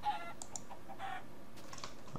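A Minecraft chicken in a desert biome gives a few faint, short clucks over quiet clicking, with no one talking.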